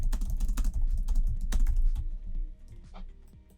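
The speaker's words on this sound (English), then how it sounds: "type a message" A message is typed on a computer keyboard: quick, close key clicks in dense bursts that thin out toward the end, with no voice over them.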